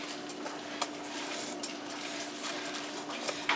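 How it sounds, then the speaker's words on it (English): Chopped broccoli fries in a hot pan for a beef and broccoli dish, giving a steady close hiss with a few light clinks of utensil against the pan. "we're going to add in the vegetables and fry them up"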